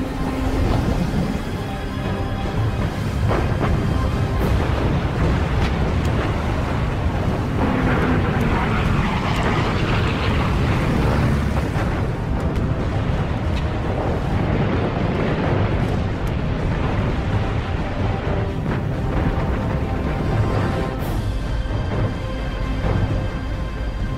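Aircraft attack the battleship Musashi with bombs and torpedoes: a loud, continuous roar of aircraft engines mixed with rumbling blasts and heavy wash over the whole stretch, dense and close with no pauses.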